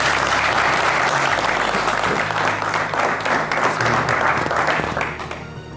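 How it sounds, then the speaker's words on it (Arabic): A studio audience at a hidden-camera TV show applauds in a loud, dense, continuous wash of clapping that fades out at the end. "تصفيق"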